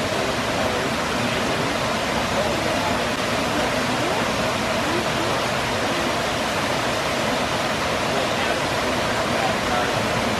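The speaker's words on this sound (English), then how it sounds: "So we went to the waterfall." A waterfall roars steadily on a scenic hike with huskies, a dense, constant wash of falling water close by that stays unbroken from start to finish with no gaps.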